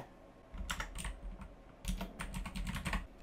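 Fingers clatter on a computer keyboard in two quick bursts of close, crisp keystrokes separated by a short pause, with a low steady hum underneath.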